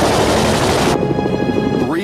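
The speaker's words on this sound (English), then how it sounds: "300 rounds from Richthofen's machine gun brings his score to the magic number of 50 victories." Machine gun on an Albatros D.III First World War fighter plane fires a dense, loud burst lasting about a second, then gives way to a lower, droning rumble.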